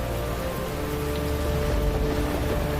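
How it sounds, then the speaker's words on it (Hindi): Heavy rain pours down steadily, a dense continuous hiss of drops hitting surfaces with no pauses. "कुछ ही देर में नगर में भयंकर वर्षा शुरू हो गई।"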